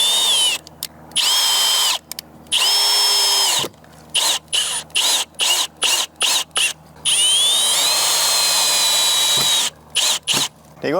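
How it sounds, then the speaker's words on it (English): A cordless drill drives screws into wood in a run of short, loud whirring bursts, each stopping and starting, with brief pauses between them. "cordless drill works really well."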